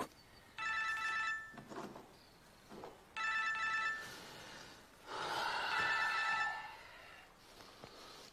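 A telephone bell rings indoors in three separate bursts with short quiet gaps between them. The ringing is clear and fairly close, with soft breathing noises in the pauses.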